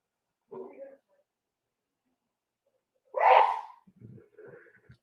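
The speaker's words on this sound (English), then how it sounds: "She sneezes like 10 times." A woman lets out a single sharp, close sneeze, preceded and followed by quieter breathy vocal sounds in an otherwise silent room.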